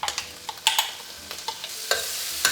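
Onions going into a hot pot for eggplant caponata, giving quick crackling sizzles and stirring scrapes in an irregular rhythm, close and moderately loud.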